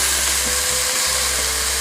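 Minced onion frying with spices in a pan, a steady loud sizzle with a low hum underneath and faint stirring, no talk.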